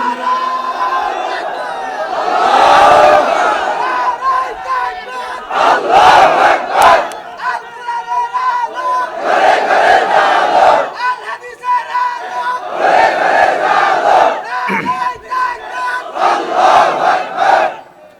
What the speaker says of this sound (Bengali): নারায়ে তাকবীর, আল্লাহু আকবার।